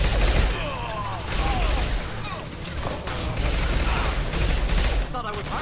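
Gunfire in the Mass Effect 2 video game during a fight against Krogan from high ground, a dense continuous barrage of shots and loud game effects over a steady low rumble, with a voice talking over it.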